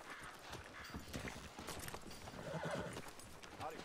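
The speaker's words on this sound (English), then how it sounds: "Tether the horse and I'll meet you across the street." A horse in Red Dead Redemption 2 gives a whinny amid steady clip-clop of hooves on a town street, with background game ambience and no speech.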